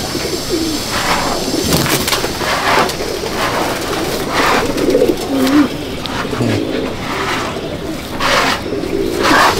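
Madrasi (Chennai) pigeons coo in a loft at Andul Howrah, several birds giving repeated, overlapping soft coos close by against a faint background hum.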